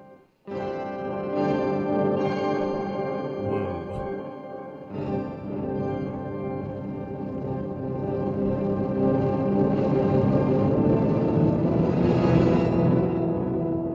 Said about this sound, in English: Let's hear that with delay.